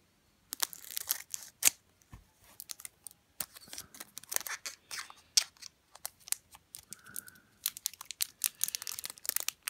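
Scissors snipping open the top of a vintage Pokemon Neo Genesis booster pack, a series of close, crisp crinkling cuts and foil rustles coming in uneven bursts with short pauses between.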